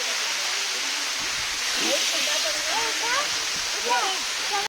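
Deojhar waterfall rushing in a broad, loud, continuous roar of falling water that fills the whole stretch, with faint voices barely showing above it.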